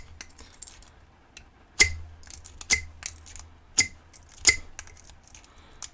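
A lock pick is zipped through the pins of a Squire QB50 padlock, giving a handful of sharp metallic clicks and light rattles spaced irregularly, close up and fairly quiet.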